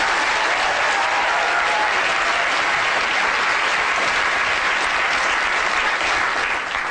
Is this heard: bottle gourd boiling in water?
no